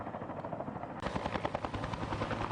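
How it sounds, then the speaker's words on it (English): A firefighting helicopter working over the Angora forest fire, its rotor thudding in a loud, rapid, steady beat that grows fuller and nearer partway through. "helicopter pilots came in, picked up bucket loads of water, and went to go battle this inferno across Angora"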